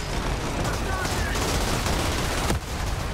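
Gunfire in the video game Outriders: a dense, continuous burst of rapid shots and noisy action that fills the whole stretch and drops briefly near the end, with no clear voice over it.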